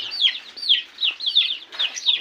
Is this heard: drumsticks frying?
no